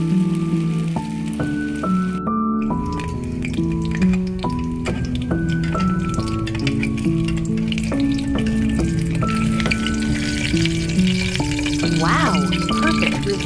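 A canned tuna and vegetable omelette fries in a pan, giving a steady, close crackling sizzle throughout while a voice talks over it and music plays underneath.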